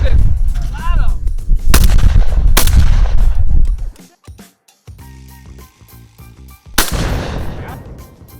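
Rifle shots from a grandfather's rifle striking a tannerite explosive target outdoors, giving several loud, sharp blasts with booming low-end tails, spaced a second or more apart, with quieter clatter between them.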